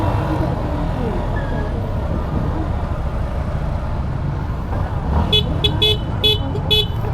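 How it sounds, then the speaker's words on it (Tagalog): A Suzuki Gixxer SF 155 motorcycle horn sounds in a few quick honks near the end, over steady road and engine noise during a test ride. "Ayan busina niya, ano?"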